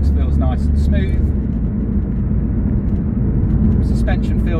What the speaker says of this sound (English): So the car pulled away nicely there.